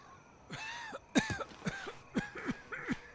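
Character coughing in the Sniper Elite 4 video game: a run of about six or seven rough, hacking coughs in quick succession, close and fairly quiet, with no speech.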